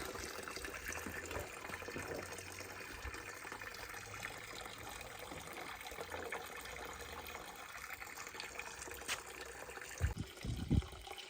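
Fermented grape must made with sugar syrup, flowing from a wine press for distillation, a faint continuous trickle and splash of liquid with a few brief louder knocks near the end.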